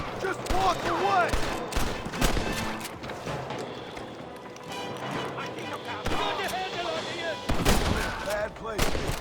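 Gunfire crackles in Red Dead Redemption, several sharp shots and bursts scattered among game sounds while voices talk over them.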